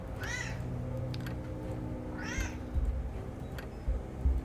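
A cat in the Nancy Drew: The Ghost of Thornton Hall computer game gives two distinct meows a couple of seconds apart, moderately loud over a low steady hum with a few soft clicks.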